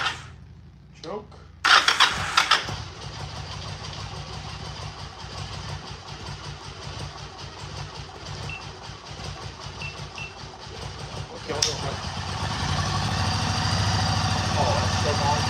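A Yamaha V Star motorcycle with starter trouble cranks with a few brief bursts, then catches and runs with a steady, throbbing idle. The engine grows louder and rougher toward the end, and a voice can be heard briefly near the start.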